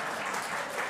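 A brief snatch of steady audience applause at a lecture, an even wash of many hands clapping with no pauses.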